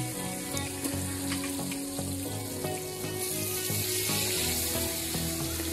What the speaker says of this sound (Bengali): মাছগুলো খুব ভালো করে ভেজে নিতে হবে।